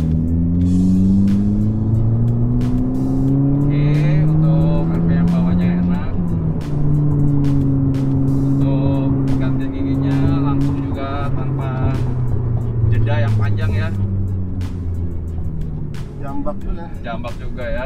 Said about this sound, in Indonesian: kita langsung tes praktek di jalanan ya, Francis